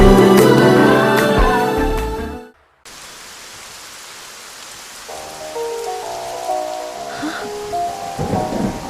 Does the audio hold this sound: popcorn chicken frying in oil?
no